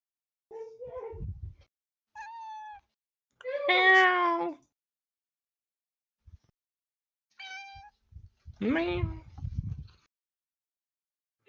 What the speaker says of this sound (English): Aww, it's a happy cat.